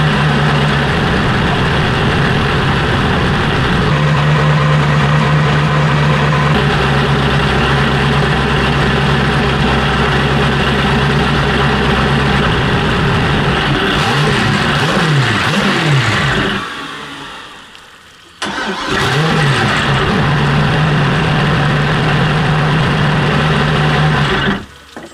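A V8 turbo ski boat engine idles with a steady, loud, rumbling drone for most of the run, its pitch wavering a little, then briefly dropping and cutting out before it catches again and keeps idling.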